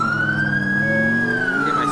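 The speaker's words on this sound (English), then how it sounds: "get my siren on" A police car siren in GTA IV with the LCPDFR mod wails loudly and steadily up close. It rises and falls in one long sweep over a low engine hum.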